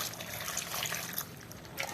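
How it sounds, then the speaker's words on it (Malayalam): Water poured into lentils for sambar, making a soft, continuous splashing trickle that stays fairly faint and steady through the short moment. "നമ്മൾ വെള്ളം ഒഴിച്ച്"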